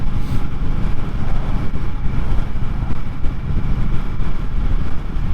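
An Indian Scout Rogue motorcycle cruises at close to 60 mph around 2800–2900 RPM, giving a steady low engine drone mixed with heavy wind rush that stays loud and constant throughout, with no talking.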